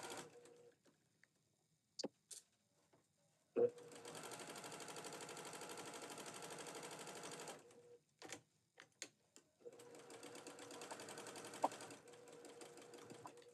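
A sewing machine stitches across the middle of a small charm-pack fabric bow in two long steady runs, a rapid even whir, separated by brief clicks and handling noises.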